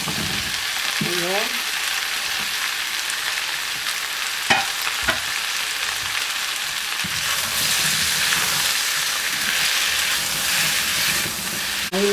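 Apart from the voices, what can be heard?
zucchini and celery stir-frying, sizzling in a pan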